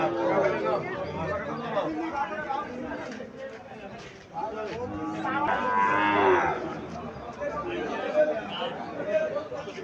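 Sahiwal bull calves moo repeatedly at a livestock market, with loud drawn-out lowing close by over a constant crowd murmur and nearby voices talking.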